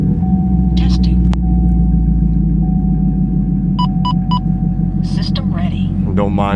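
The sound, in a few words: 2020 Camaro SS 1LE 6.2 V8 idling with MBRP exhaust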